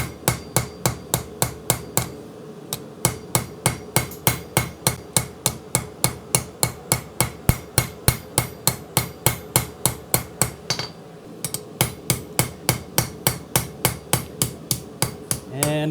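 A planishing hammer strikes a forged integral knife bolster to smooth off sharp edges, delivering a long run of steady, evenly spaced ringing metallic blows up close, with two brief pauses.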